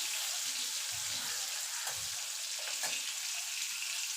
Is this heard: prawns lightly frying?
yes